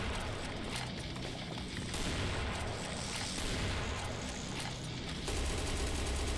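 Sustained, dense gunfire from the shooter game Serious Sam Fusion, with rapid overlapping shots and booming impacts running loud and continuous throughout, without talk.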